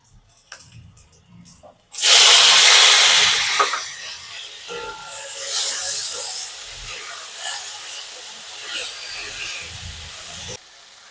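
Chopped tomatoes hitting a hot pan of roasted spices, ginger and garlic for Puneri misal, a sudden loud sizzle that settles into steady hissing and crackling for several seconds.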